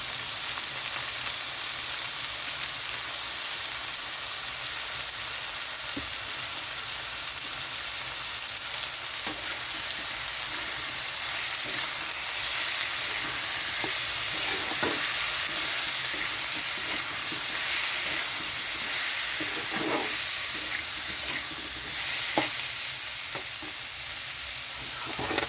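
Ground coriander, cumin and Kashmiri chili powder fry in a pan with mutton fat, giving a steady loud sizzle with occasional stirring scrapes throughout, no voices.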